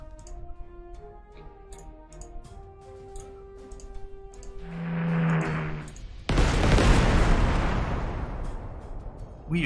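Bombing of encircled enemy defenders in the strategy game Panzer Corps 2 at Leningrad: a tonal tick-like interface passage gives way to a sudden loud, sustained roar of explosions over the final seconds.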